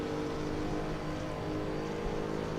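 GT3 race car engine at Zandvoort in a racing game, a steady loud droning roar that eases slightly as the driver lifts off the throttle, with no talk.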